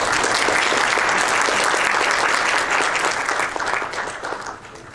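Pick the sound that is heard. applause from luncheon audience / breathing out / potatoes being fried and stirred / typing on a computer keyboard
applause from luncheon audience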